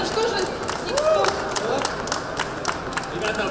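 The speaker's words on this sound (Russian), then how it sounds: "аплодисменты" An audience applauds at a coffee-shop contest final, a steady wash of dense clapping with a voice talking over the top for the whole stretch.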